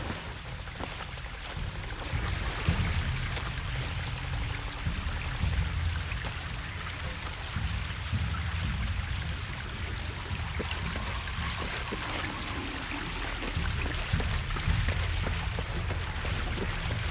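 Water released from a water tower valve in Shadow of the Tomb Raider gushes and splashes in a steady, continuous rush, with a broad hiss of falling water and patter, no voices over it.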